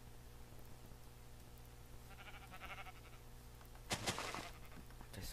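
Sheep bleating in the Minecraft video game, a couple of short bleats standing out over a steady low game background hum, followed by a louder burst of bleating near the end.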